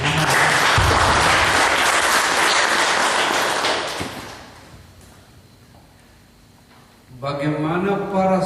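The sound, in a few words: audience applause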